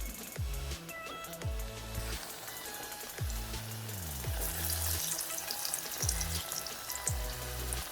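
Masala vada batter frying in hot oil in a pan makes a quiet, steady sizzle and crackle, with faint kitchen clatter now and then.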